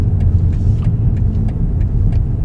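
A car is heard from inside a moving vehicle during a driving lesson, a steady low engine and road rumble filling the clip with faint ticking clicks above it and no voices.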